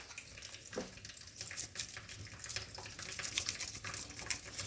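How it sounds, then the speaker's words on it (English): Tap water runs steadily into a kitchen sink while hands are washed under it, a broad continuous splash at moderate volume with no talking. "And I wash my hands."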